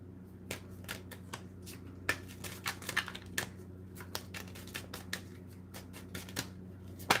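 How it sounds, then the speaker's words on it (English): Cards riffle and snap in quick, irregular clicks over a steady low hum, close and fairly quiet, with sharper taps scattered throughout. "I am going to shuffle what's in my hand to start."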